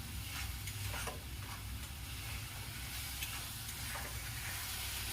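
Masala for a potato and pea curry fried and stirred in a pan over high flame, giving a steady sizzle with scraping stir strokes throughout, close and continuous.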